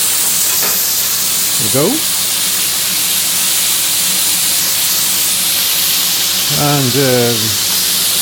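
Steak sears loudly in a hot pan after being flipped, a dense continuous sizzle and hiss with brief whistly tones near the start and near the end, while someone says a few words over it.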